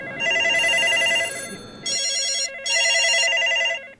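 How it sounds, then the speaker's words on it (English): A telephone rings in loud electronic bursts, a trilling tone cut into a long ring, a short gap and two more rings, close and alone. "The phone soon began to ring"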